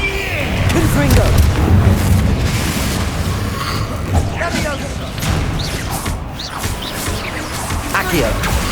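Confringo spells in Hogwarts Legacy set off loud booming blasts, a heavy explosion up front and further bursts through combat noise, with a voice speaking over it.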